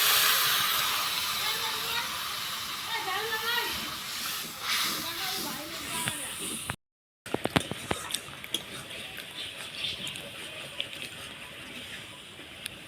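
Water poured into a pan of frying spices with chili powder for a Bengali fish-head and jackfruit curry, giving a loud hissing sizzle and steam that dies down, followed by clinks of a utensil.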